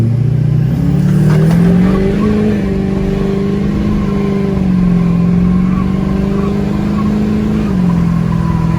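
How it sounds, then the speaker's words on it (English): An LMM Duramax diesel pickup fitted with a loud aftermarket turbo accelerates hard from a dead stop in a 0 to 60 run, its engine drone climbing steadily and close for the whole stretch. "I'm gonna be doing a 0 to 60 test on this truck."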